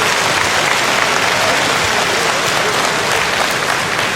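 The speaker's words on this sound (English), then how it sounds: "Approval from the crowd." Dense, steady applause and cheering from an arena crowd at an M-1 Challenge MMA event in Saint Petersburg, a continuous roar of clapping at even loudness with no break.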